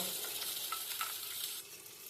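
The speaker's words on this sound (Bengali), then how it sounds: "পটলগুলো প্রায় ভাজা হয়ে গেছে" Pointed gourd (potol) frying in oil gives a faint, steady hissing sizzle over a short, quiet stretch, with a slight dip in level near the end.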